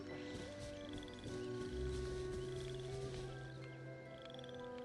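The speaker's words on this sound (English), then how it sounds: "You can hear the toads in the background." Toads croak in a Genshin Impact game environment: short repeated pulsing calls sit within a dense, steady wash of ambient game sound and tones that continues throughout.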